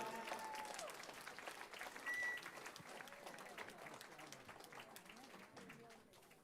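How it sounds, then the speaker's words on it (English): Audience at a talent show applauds a German group, a dense, steady wash of clapping that holds for several seconds and thins slightly toward the end, heard from a distance and fairly quiet. "One more round of applause, ladies and gentlemen."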